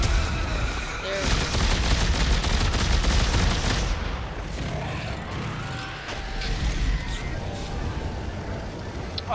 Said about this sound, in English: Oh, I shot it twice.